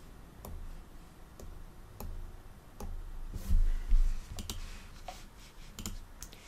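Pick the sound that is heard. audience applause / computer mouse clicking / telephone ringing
computer mouse clicking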